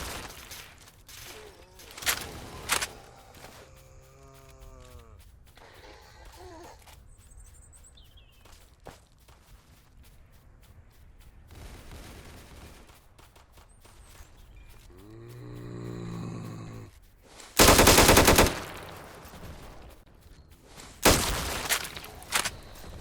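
Rifle fire in the zombie survival game Those Who Remain: a few short, sharp gunshot bursts ring out loudly, including two heavy blasts near the end, separated by quieter stretches of footsteps, creaks and ambient game noise.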